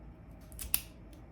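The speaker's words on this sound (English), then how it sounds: "So a crown is a V cut going one way and then the other way." Cigar V-cutter making one notch of a crown cut on a large cigar: a short, sharp snip close to the mic, with a faint rustle just before it and no talking.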